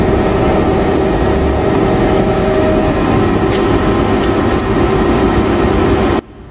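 A factory sawing machine runs loud and steady after starting, a continuous droning hum with a strong tone that holds evenly for several seconds and then cuts off abruptly.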